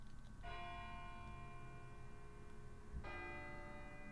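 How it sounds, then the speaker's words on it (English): A bell rings in Persona 3 Portable, struck twice about two and a half seconds apart. Each strike is bright and sustained with long ringing overtones, set over a steady low ambient hum. "It sounds like a bell, but where's it coming from?"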